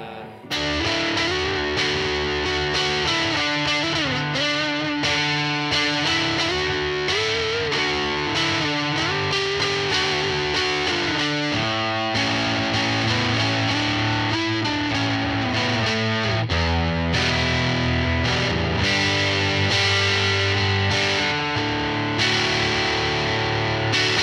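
Bass guitar played through stacked overdrive and distortion pedals, a thick, fuzzy, continuous riff with sustained gritty notes and shifting pitch, loud and alone throughout.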